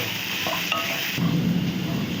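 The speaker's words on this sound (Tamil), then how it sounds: "சேர்த்துட்டு நல்லா வதக்கிக்கணும். நல்லா இது ஒரு கோல்டன் ப்ரௌனாக வரணும் இந்த வெங்காயம்." Onions sautéing in a pan until golden brown for Rajasthani laal maas, a continuous close sizzle with light scraping stirs and a brief clink of utensils.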